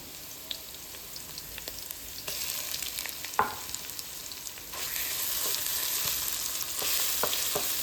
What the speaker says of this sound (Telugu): దీంట్లో మనం ఫ్రెష్గా దంచి పెట్టుకున్న అల్లం వెల్లుల్లి ముద్ద వేసుకొని అది కూడా బాగా ఫ్రై చేసేసుకుందాం